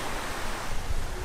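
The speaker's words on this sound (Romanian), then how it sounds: "Oceanul." Ocean waves washing onto a small beach in Mexico beside a hotel, a steady broadband rush of surf with some wind buffeting the microphone, continuous and fairly loud with no voices.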